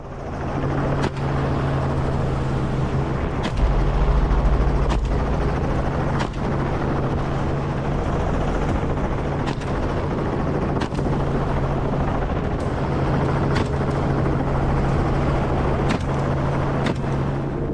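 A helicopter drones continuously with a heavy low rotor thrum and steady engine noise, loud and sustained throughout.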